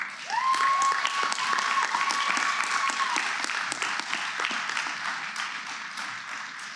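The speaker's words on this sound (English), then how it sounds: "Please give yourselves a round of applause." Audience at a 2021 PhD graduation ceremony breaks into sustained applause, loud and dense at first, then gradually thinning over several seconds, with a brief tonal whistle-like tone sounding through the clapping early on.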